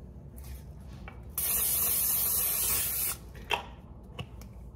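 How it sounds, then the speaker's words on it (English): Cooking spray hisses in one loud burst of about two seconds, close up, onto an 8x8 baking pan for brownies, with light handling knocks before and after. "you wanna get an 8x8 pan like this one and spray it or put some butter on it so that the brownies don't stick"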